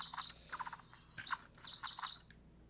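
Electronic toy bird chirps in quick, bright bursts, several short trilling phrases repeating close by over a faint steady background hum, with no talking.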